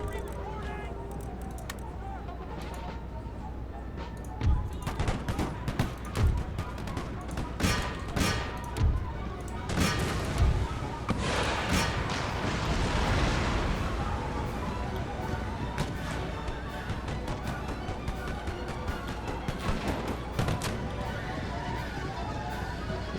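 Cannon fire in Empire: Total War, heavy booming thuds going off in bursts over a busy rumbling battle din, with several close impacts and scattered crackling between them.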